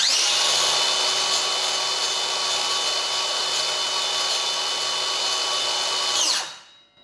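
A Stanley FatMax SBC550M2K 7-inch cordless circular saw runs unloaded at full speed during an RPM test, holding a loud, constant high whine for about six seconds before spinning down quickly at the end.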